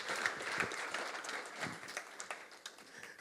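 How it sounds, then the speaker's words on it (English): Audience at a church gathering applauds with quiet, scattered clapping that comes from a distance and fades out over a few seconds. "let's just give a big round of applause to Gareth, Ali, and Chrissy"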